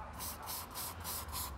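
Hairspray sprayed from an aerosol can onto artwork as a fixative, heard as a quick series of about five short, hissing bursts, close and steady.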